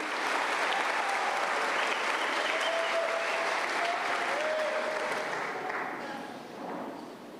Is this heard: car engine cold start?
no